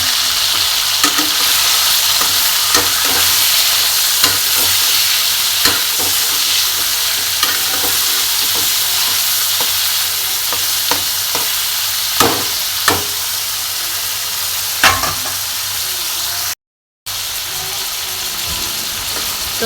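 Chicken pieces frying in hot oil, a steady loud sizzle with crackles and stirring clatter throughout, briefly cut to silence near the end.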